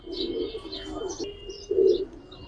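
A red-necked Budapest female pigeon and others coo in a pigeon market, with low throaty calls rising and falling in short phrases close by, a louder coo near the end.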